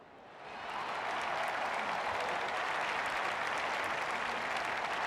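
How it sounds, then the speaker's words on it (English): Steady, dense applause from a cricket match crowd swells in over the first second, then holds as an even wash of clapping, moderately distant and without any talk. "The crowd applaud."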